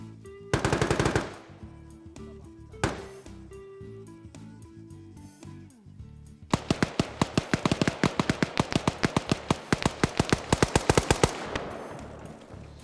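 Bursts of automatic gunfire in a military shooter video game, a short rapid volley early on, a lone shot, then a long sustained rattle of rapid shots, loud and close.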